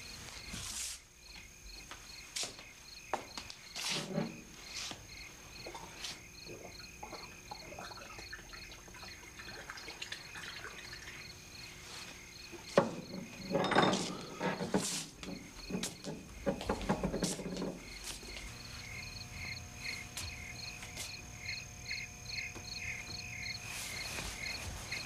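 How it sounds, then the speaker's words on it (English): Crickets chirp in a steady, monotonous high-pitched pulse throughout a nighttime scene, joined by occasional footsteps, thumps and rustling movement nearby. "Those are the most monotonous fucking crickets I ever heard in my life."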